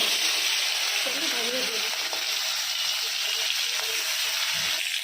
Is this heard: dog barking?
no